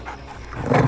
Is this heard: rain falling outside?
no